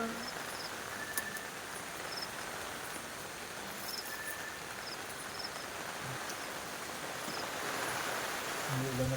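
Rain falling steadily as a dense, even hiss that fills the whole stretch, with faint chirping and scattered small sounds on top.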